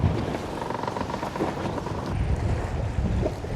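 Strong wind roars steadily into the microphone by a bridge on a cold, rough day of striper fishing from a boat near a marina, a continuous buffeting rush with water noise underneath and no talk.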